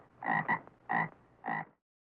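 A frog croaks three times in quick succession, short throaty calls with brief gaps, close and clear with no other sound.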